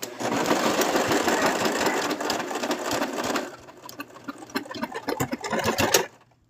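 A sewing machine stitches a tiny plush tail, a close, steady whirring run for about three seconds, then slower, uneven bursts of needle chatter before stopping.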